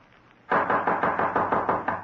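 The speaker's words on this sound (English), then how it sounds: "Suddenly, a loud knocking at his door startled him." Loud knocking on a door, a radio drama sound effect for a vintage horror play, beats out in a steady run of about a dozen close, heavy raps after a brief quiet start.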